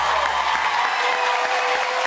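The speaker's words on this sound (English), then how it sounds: "Give Jools a big round of applause." Studio audience applause on a late-night talk show, a dense, steady wash of clapping that holds evenly loud from start to finish with no voices over it.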